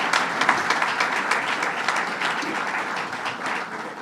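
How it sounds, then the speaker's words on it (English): Applause from a crowd at a Syracuse Hancock International Airport modernization completion event, a dense, steady patter of many hands clapping together, lasting the full stretch without talk. "Let's give him a big round of applause, Howard Zemsky."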